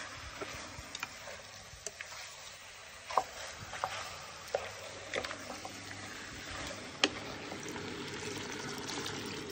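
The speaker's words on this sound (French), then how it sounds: "Je mets la farine avec pour qu'elle puisse bien se mélanger à la viande, à tout." Flour being stirred into beef for bœuf bourguignon in a pot, with a faint low sizzle and intermittent scraping and clinking of a utensil against the pot.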